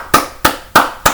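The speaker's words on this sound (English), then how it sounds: "Everybody give him a round of applause for me." Four sharp, evenly spaced claps ring out close by in a classroom, quick single hand claps rather than a full crowd applauding.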